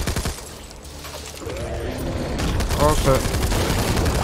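Gunshots in the co-op zombie shooter Back 4 Blood, a burst of rapid firing over continuous background game noise, with a player swearing briefly amid the shots.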